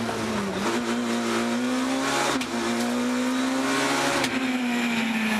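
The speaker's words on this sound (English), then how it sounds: "Great to hear the wail of the engine nonetheless" Rally car engine wailing at high revs on a Tour de Corse stage with Freddy Loix driving, a steady loud sustained whine with slight pitch rises and a brief dip mid-pass, no talk.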